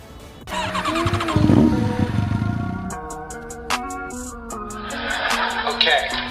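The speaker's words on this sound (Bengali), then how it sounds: "আর ওয়ান ফাইভ ভি থ্রি এর পাওয়ারফুল ইঞ্জিন বাইকটিকে অন্যান্য সকল ইয়ামাহা বাইক থেকে ভিন্ন করে তুলেছে" A Yamaha XSR 155 motorcycle's 155 cc engine starts and revs loudly up close for a couple of seconds, then gives way to a rhythmic music beat.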